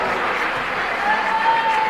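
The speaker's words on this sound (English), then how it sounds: "Hey, our cheering section of boys got it going over there" Crowd in a gym cheering at a high school volleyball match, a steady wash of noise from the stands with a faint whistle-like tone above it.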